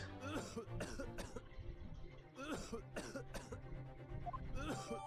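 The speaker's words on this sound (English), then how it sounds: "I do not like hearing people cough" A character in the video game The Great Ace Attorney Chronicles gives several sharp coughs and throat clearings in bursts, loud and close over a low background music bed.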